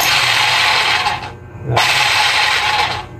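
An electric hammer runs with a loud, harsh buzzing rattle, cuts out for a moment, then is switched on again and keeps running steadily to the end.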